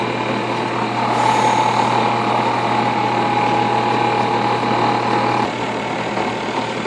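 A rotary burr cuts an inlay, giving a steady high whine over a continuous buzzing drone that holds for several seconds and then drops slightly in level near the end.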